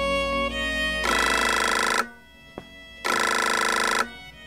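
A telephone rings in two long electronic bursts separated by a pause, loud and close, with a faint click in the gap.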